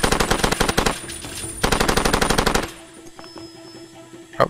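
Rapid automatic gunfire in Far Cry 2, shot from a barge: two loud close bursts of fast repeated shots separated by a short pause, then quieter background rumble and a final single crack.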